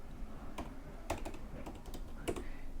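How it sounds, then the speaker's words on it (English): A URL typed on a computer keyboard, with a short run of quiet, uneven key clicks close by and no talk. "And even if I type in the URL,"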